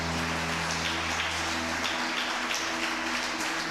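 A church congregation applauds together during a worship service, a dense, steady wash of clapping that fills the room from start to finish. A low musical drone hums beneath the applause.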